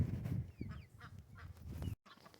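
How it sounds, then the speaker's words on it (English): Several excited ducks on a homestead call near a newly filled swimming pool, loud honking quacks repeating in an uneven burst that stops abruptly, with no talk. "The ducks are very excited because they got a swimming pool"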